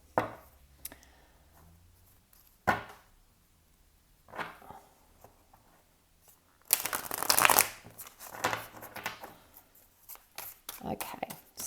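Lumina Tarot cards are shuffled by hand, scattered soft riffles and slaps building to a dense, crisp burst of shuffling midway, then continuing in quick bursts.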